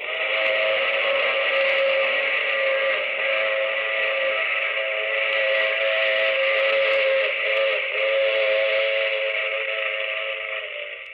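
A steam train's whistle in an old-time radio drama, a steady, loud layered chord held for about eleven seconds with a low rumble beneath, no voices over it.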